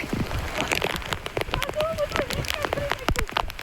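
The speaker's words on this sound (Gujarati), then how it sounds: "ફૂલ વરસાદ ઓ ભાઈ બહુ વરસાદ છે" Dense patter of heavy rain striking a surface nearby, with a voice talking briefly over the downpour.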